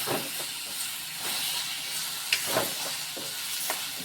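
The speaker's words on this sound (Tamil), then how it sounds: "தக்காளியும் போட்டு நல்லா கொஞ்சம் தேவையான அளவு உப்பு போட்டு வதக்கிக்கிறேன்." Tomatoes with salt sauté in a hot pan for a Channa Kurma, giving a continuous broad hiss and sizzle. A few soft scrapes and taps from stirring cut in briefly above the steady frying.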